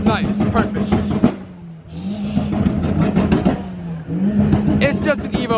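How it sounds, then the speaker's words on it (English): A Mitsubishi Evo engine revs at an open-house car meet, its pitch rising and falling through several throttle blips, fairly close and loud, while people talk over it. "It's just an Evo, guys."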